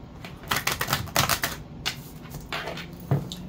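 Cards are riffled and shuffled in a few quick bursts of crisp, papery fluttering, close up, with short pauses between.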